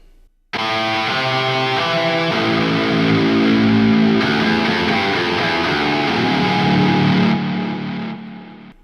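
A distorted electric guitar through an Archetype amp simulator plays a driven chord riff, thick and loud with crunchy amp tone, ringing out alone before fading.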